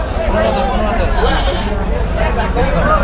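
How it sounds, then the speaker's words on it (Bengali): Large goats of several breeds bleat at the Gabtali cattle market in Dhaka, their cries mixed into a dense, loud crowd murmur with people talking nearby. "দেখুন বিশাল বড় বড় ছাগল এবং বিভিন্ন প্রজাতির ছাগল আমরা এখানে দেখতে পাচ্ছি"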